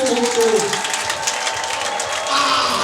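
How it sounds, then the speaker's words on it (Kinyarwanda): A church congregation at an evening repentance service claps together in a steady burst of applause, with a voice speaking over the clapping. "tumukomera amashyi"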